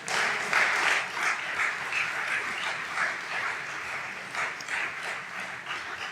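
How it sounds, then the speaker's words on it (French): An audience at a political speech applauds, a sustained wash of many hands clapping heard at some distance, steady throughout with slight swells. "Vous pourriez applaudir quand même là."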